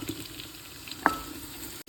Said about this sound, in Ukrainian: З цибулькою смажимо ще хвилини 3